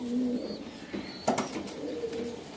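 Low, soft cooing from a Super Teddy pigeon, one of a large breeding pair, with a couple of brief coo phrases and a faint higher chirp amid quiet ambient noise.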